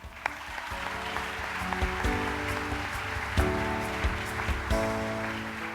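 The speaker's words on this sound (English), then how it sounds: "Let's give our Chapter Trust contributors one more round of applause." Applause from the audience at a state FFA convention session, a dense wash of clapping that carries on steadily while sustained musical tones play underneath.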